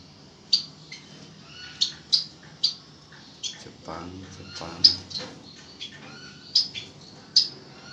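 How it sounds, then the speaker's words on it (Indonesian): Japanese pipit finches kept in an indoor room colony give repeated sharp, high chirps and squawks in irregular bursts, close and clear, with a faint voice briefly in the background. "Itu pipit Jepang, itu pipit apa namanya, orang bilang gantil apa"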